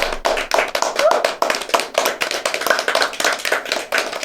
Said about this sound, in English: Can we have a round of applause for Vanstone?